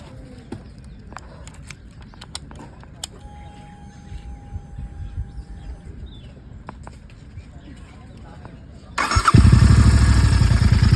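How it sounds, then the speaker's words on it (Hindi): A GT 650 motorcycle fitted with a Powerage exhaust and no dB killer fires up after several seconds of quiet outdoor ambience, then idles loudly and close with a deep, rapid, steady pulsing thrum. "मैंने आज ही पावर एज के एग्जॉस्ट लगवाए हैं and this is without DB killer"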